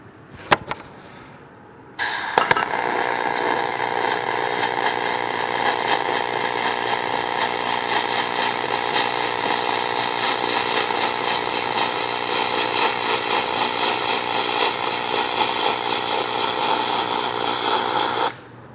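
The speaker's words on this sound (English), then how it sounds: "We're now going to continue making this weld bead on this horizontal lap joint" Gas metal arc welding on an aluminum horizontal lap joint in spray transfer, a loud, steady crackling hiss that starts abruptly after a short pause and holds evenly until it stops.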